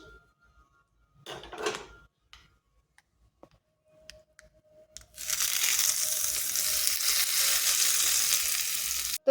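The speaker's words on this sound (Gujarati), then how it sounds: "ગરમા ગરમ વઘાર આપણે હવે ચટણી ઉપર રેડી દઈશું" A hot tempering with chillies is poured over coconut chutney and erupts into a loud, sustained close sizzle, following a few quieter clinks and kitchen handling sounds.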